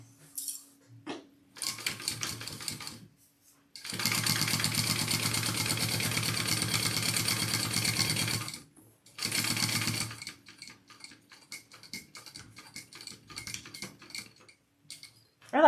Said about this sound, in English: I like to do extra stitches down on the corners of my slip pockets